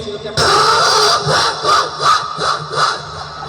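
A performer's voice mimics a private car's engine being started on a cold winter morning, a loud sustained rasping drone with rhythmic surging pulses, alone without talk.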